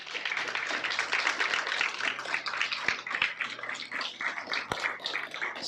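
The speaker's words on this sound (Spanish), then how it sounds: "¿Cuántos le podemos dar un aplauso fuerte al Señor?" A church congregation claps loudly for the Lord during a Spanish-language sermon, a dense and sustained burst of applause that fills the whole stretch without pause.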